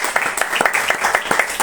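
Audience at a book presentation for a youth novel claps, a brief burst of fairly close, loose applause with individual hand claps standing out in an uneven rhythm.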